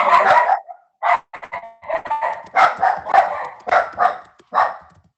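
A dog barks repeatedly in short bursts, fairly close and loud, with uneven gaps between the barks and no talking.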